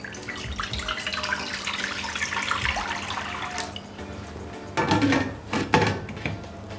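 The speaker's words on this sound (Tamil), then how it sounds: "இப்போ நம்ம இட்லி பாத்திரத்தை வச்சு அதுக்குள்ளே தண்ணி சேர்த்துக்கலாம்" Tap water runs into an idli steamer pot in a kitchen, a continuous close rushing stream for several seconds, followed by a few clanking handling knocks of the metal pot.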